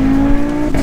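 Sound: Audi RS3 ABT engine roaring

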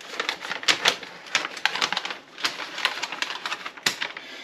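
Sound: scissors cutting a Mylar vacuum sealer bag

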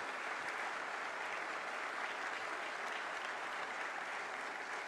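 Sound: audience applause welcoming RPF soldiers on stage

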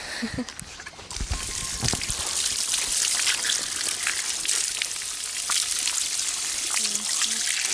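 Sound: water poured for washing up outdoors

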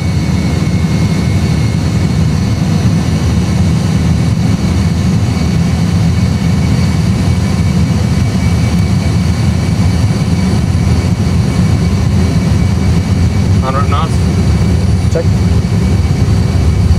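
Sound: Airbus A320 jet engines at takeoff thrust

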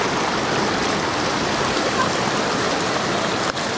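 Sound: stream water flowing near small cascade at Horsetail Falls

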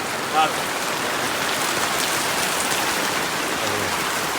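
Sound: heavy rain falling at night

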